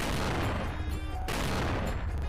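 Dense gunfire in the Wednesday horror video game, a loud, close barrage of overlapping shots with no pauses through a brief burst.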